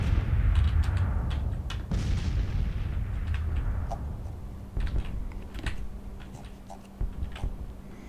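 Artillery booms during a Grand Tactician Civil War battle: scattered sharp reports and thuds, some near and some distant, over a low rumbling din, with quieter crackling in between.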